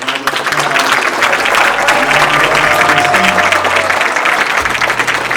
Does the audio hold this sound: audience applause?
yes